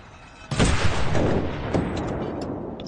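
Heavy gunfire in the video game Enlisted, on a USSR-side battlefield: a loud burst erupts half a second in and rolls on as dense, booming fire with scattered sharper cracks, no talk over it.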